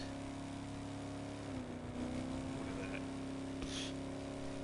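A sports car's exhaust note drones and revs in the racing video game The Crew 2. The sustained engine tone dips and rises once and stays fairly quiet throughout.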